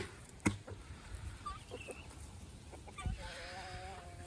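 Roosters cluck and call softly in the background, with a few brief knocks and a low hum throughout, no clear talking.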